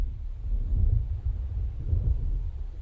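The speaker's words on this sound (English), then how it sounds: "It seems there's a storm coming." Thunder of an approaching storm in the Alan Wake video game, a low continuous rumble rolling in and out with faint wind noise, no voices.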